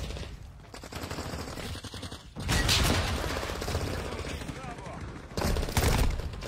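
Bursts of gunfire ring out in a video game, a thinner stretch followed by two loud sustained volleys, with a voice talking over them.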